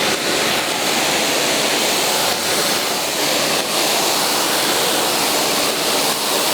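A pressure washer blasts hot water at 150 bar, a loud, steady hissing spray that runs unbroken and close up throughout, with no voices.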